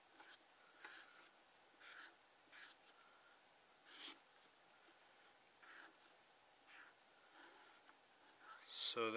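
A broad-tip Prismacolor black marker inks over pencil lines on a cartoon drawing, giving soft, close, scratchy strokes in short repeated bursts at a steady pace, faint and intimate, with no speech.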